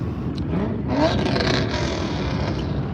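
A car engine at a cars and coffee meet in Nashville drones steadily, then swells in a brief rev before settling back to a rumbling idle, close by.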